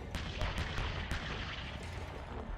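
A Bradley fighting vehicle's Bushmaster cannon fires in combat, a rapid run of heavy booming shots early on over a continuous rumbling roar of battlefield noise.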